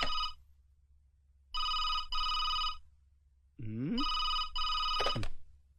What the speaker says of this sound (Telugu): ఫోను. వినిపిస్తుంది,